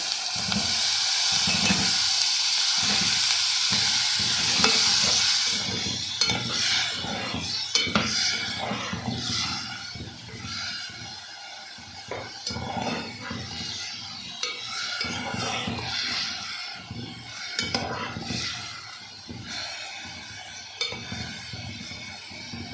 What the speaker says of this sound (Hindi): ये जो आलू हैं इनको ना धीमी आंच पे 3-4 मिनट ज़रा रखूँगी